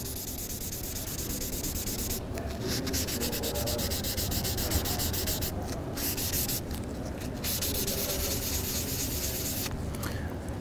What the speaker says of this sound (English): the gradient is to be created with the help of an empty napkin